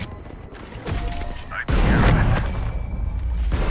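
Loud, deep booming blasts from explosions in VALORANT, with rumbling that sustains over a dense, noisy background and some talking.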